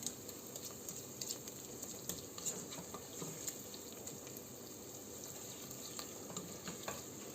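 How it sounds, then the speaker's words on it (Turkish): Steady, soft sizzling and crackling of tomato paste frying with onions in a pan for Turkish bean stew, continuous and close, with occasional faint scraping from stirring. "Karıştıraraktan salçamızı soğanımıza yedirerekten böyle biraz kavuruyorum."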